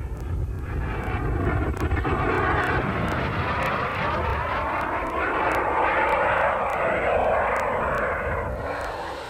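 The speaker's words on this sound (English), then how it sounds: "jet models can become a tiny dot in the sky in a matter of seconds" A radio-controlled model jet aircraft flies overhead with a loud, continuous engine roar and whine, shifting slightly in pitch as it moves, with occasional regular clicks and some wind buffeting.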